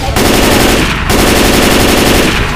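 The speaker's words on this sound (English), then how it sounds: "Keep shooting! Light that mother up! Don't stop now!" Dense automatic gunfire from the Left 4 Dead 2 video game, a loud continuous machine-gun burst that briefly breaks off near one second, then resumes, sustained and close throughout.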